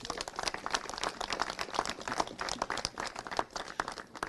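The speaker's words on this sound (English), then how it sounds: "Let's give them a big round of applause." Applause at a school district press event is heard as a steady, fairly quiet patter of many hands, continuous throughout with no distinct voices.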